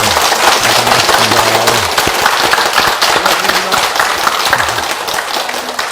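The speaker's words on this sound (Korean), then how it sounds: "다들 박수를 한번 쳐주시죠" Dense, continuous applause from a crowd at a meditation retreat's closing Dharma talk, loud and sustained throughout, with some faint voices mixed in.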